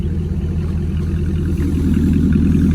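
A 2019 Chevrolet Camaro SS 1LE V8 fitted with an MBRP race catback exhaust and secondary cat delete rumbles loud and close, a steady deep throb that builds slightly toward the end, with no talking over it.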